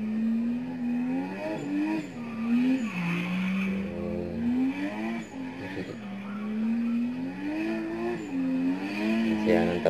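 A car drifts in circles at a racing event, its tires squealing in long wavering wails over a revving engine, loud and continuous with a crowd murmuring underneath.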